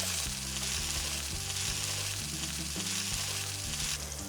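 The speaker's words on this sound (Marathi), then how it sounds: "थोडं मीठ घालून घेऊयात आणि हे आपण परतून घेऊया" Spring onions and crushed peanuts sauté in a hot pan, a steady close sizzle with stirring scrapes; rhythmic utensil knocks sound throughout, with no talking.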